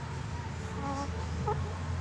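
Pet chickens give soft, short clucks close by over a steady low background hum, with a brief, slightly louder call near the middle.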